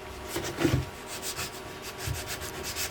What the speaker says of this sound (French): Voilà ce petit coup de ponçage